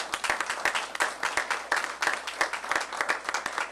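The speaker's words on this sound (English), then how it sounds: "give them a round of applause" An audience at a city government press event gives a round of applause, close and lively clapping with distinct individual claps, steady throughout with no talk on top.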